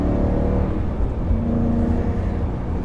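A BMW E92 M3 fitted with an Akrapovic Evolution exhaust drones steadily while driving, a deep, continuous engine rumble with a slight rise in pitch midway and no talking.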